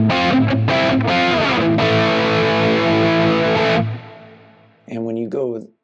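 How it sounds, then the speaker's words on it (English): Electric guitar through a Quad Cortex modeling a Marshall 2203 amp, heavily distorted chugging riff with palm-muted stabs and sustained chords, loud and up front, ending with a brief ringing phrase after a short gap. "the 2203 sounds like this"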